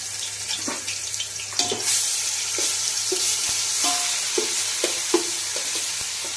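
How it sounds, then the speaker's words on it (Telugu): Steady frying sizzle of onion paste browning in oil, broken by scattered clinks and scrapes of a spoon stirring the pan, with no talking. "ఉల్లిపాయలు పేస్ట్ ఎర్రగా వేగనిద్దామండి బాగా"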